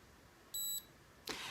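A single short electronic beep, high and thin, from a wrinkle iron, followed moments later by a brief burst of airy hiss, all fairly quiet.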